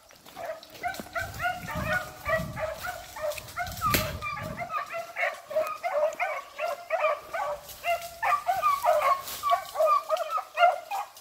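Dog barking while chasing a rabbit through woods and Phragmites near a pond, an excited rapid string of yips and bays continuing throughout at moderate distance, with faint brief voices.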